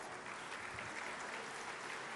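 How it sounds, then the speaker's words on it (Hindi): A large crowd at a public government event in Pandhana, Khandwa claps steadily in welcome, with dense, continuous applause that holds at an even level throughout. "आप तालियां बजा करके उनका स्वागत करते जाना।"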